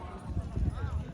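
Calves' hooves pound the ground at speed in a bullock-cart race on a village racing field, a busy, uneven clatter under continuous announcer talk.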